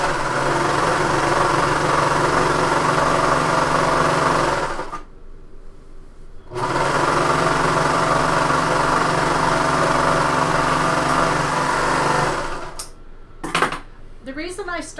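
Domestic sewing machine running steady, continuous stitching runs on a bomber jacket, loud and close, with a brief pause midway and a few light clicks and handling noises near the end.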